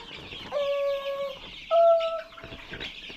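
Farm chickens cluck and call nearby, two drawn-out tonal squawks followed by softer scattered clucks against quiet background chatter from the flock.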